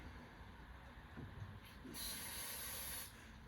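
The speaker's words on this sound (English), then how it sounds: "Little brake parts cleaner." An aerosol can of brake parts cleaner sprays once for about a second, giving a sharp close hiss over quiet background noise.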